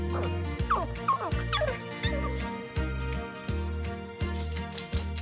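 A young puppy from an abandoned litter barks, yips and whimpers in short repeated bursts, fairly close, over steady background music.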